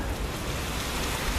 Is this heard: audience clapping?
no